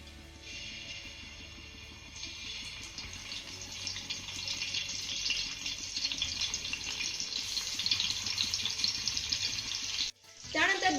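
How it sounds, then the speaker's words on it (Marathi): A steady broadband sizzle of whole potatoes frying in oil on an iron pan, growing slightly louder over time, with faint clinks underneath, then cutting off abruptly near the end. "तव्यामध्ये तेल घालून झालं की यामध्ये आपण बटाटे ठेवूया"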